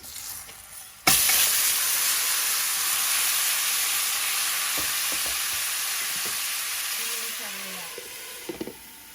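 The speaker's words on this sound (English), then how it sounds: "I'm just gonna go in with my oxtail after the sugar is nicely browned" Oxtail hitting browned sugar in a hot pot for brown stew, bursting into a loud, steady sizzle that holds throughout after a quieter start, with a few faint utensil knocks near the end.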